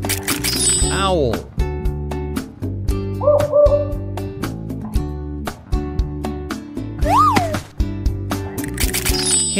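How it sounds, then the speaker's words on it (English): A short owl hoot comes midway through, set against a rhythmic electronic music track with other chirpy, bird-like calls. "Owl."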